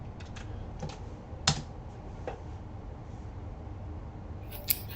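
Computer keystrokes click in short, irregular bursts with pauses, close and fairly quiet against a low background hum, with a couple of sharper taps.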